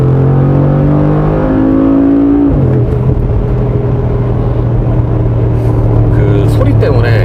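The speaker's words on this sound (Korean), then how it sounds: "예를 들어서 킥다운을 하면은" Engine and exhaust of a 2019 Mercedes-AMG G 63 Edition under kick-down acceleration: a loud, steady droning roar whose pitch drops abruptly partway through as the transmission shifts down, then holds a deep sustained growl.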